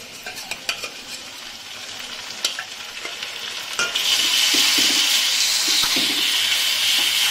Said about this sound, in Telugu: ఇది పచ్చివాసన పోయేంత వరకు ఫ్రై చేసుకోవాలి.